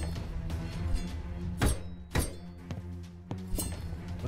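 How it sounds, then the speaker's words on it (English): Traps go off in a game demo, a string of sharp thunks and clanks landing at uneven intervals over a low droning background, with a few loud hits standing out. "What is that sound? Oh, traps."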